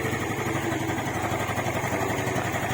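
A Yamaha Mio Sporty scooter engine runs at a steady idle-like pace, a continuous buzzing drone with an even pulsing rhythm, close and moderately loud with no talk over it.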